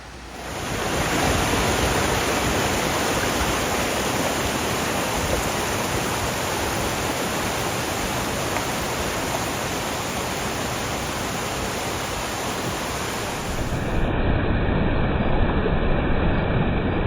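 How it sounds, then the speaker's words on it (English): A steep waterfall in the Sierra rushes with a loud, dense, continuous roar, close by and unbroken for the whole stretch with no voices. "an insane waterfall here"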